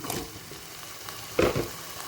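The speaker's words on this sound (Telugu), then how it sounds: "ఇప్పుడు ముందుగా క్లీన్ చేసి పెట్టుకున్న మష్రూమ్ వేసేసుకుందాం" Ginger garlic paste frying in a pan as cleaned mushrooms are added for a masala curry, a soft continuous sizzle with a couple of louder scraping stirs, no voices.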